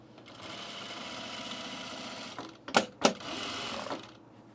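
A sewing machine fitted with a binding attachment runs steadily while stitching binding onto an unlined blazer, its drone broken by two sharp mechanical clacks near the end before the whirring resumes.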